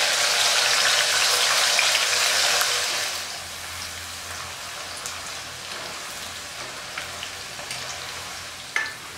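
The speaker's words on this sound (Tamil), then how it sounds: "எண்ணெய் காய ஆரம்பிச்சதும் தோல் நீக்கி வச்சிருக்க இந்த மொச்சை பருப்பை இது கூட சேர்த்துடலாம்" Skinned field beans (mocha paruppu) frying in hot oil for a South Indian snack mixture, a dense, loud sizzling hiss that eases after a few seconds into a steadier, softer crackle with scattered pops.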